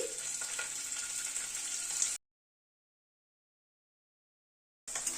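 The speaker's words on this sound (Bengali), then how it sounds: "পনিরটাকে হালকা করে ভেজে তুলে নিচ্ছি।" Paneer frying in hot oil: a steady high sizzle, close and even for two seconds, then silence before the sizzling briefly returns.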